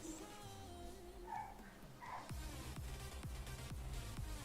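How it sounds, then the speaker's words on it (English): A dog barks several times in a quick, repeated burst, fairly close and loud over a busy background of other noise. "The dog's gone psycho."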